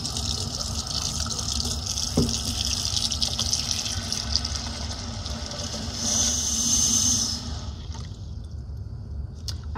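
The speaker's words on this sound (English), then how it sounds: "So let me fill this with the warm water." Warm water pours steadily into a container for indigo dyeing, a continuous gushing hiss that swells louder near the end, then tapers off as the flow stops.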